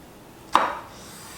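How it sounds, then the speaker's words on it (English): A single crisp chef's knife chop dicing a tomato lands on a cutting board, one short sharp cut followed by quiet. "We're gonna start by dicing this tomato."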